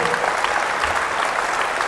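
Audience applause at a sports evening talk by an athlete and keynote speaker in Bergneustadt, a dense, steady wash of clapping that holds at an even level for the whole stretch with no voices over it.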